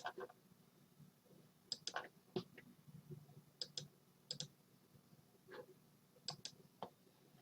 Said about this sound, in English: I'll click create again and see if it will post for me